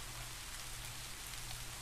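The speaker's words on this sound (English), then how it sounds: "as you can see, the rain looks excellent at night." Rain falling at night in an Unreal Engine 5 video game, a steady dense hiss of drops on surfaces, even and unbroken for the short moment.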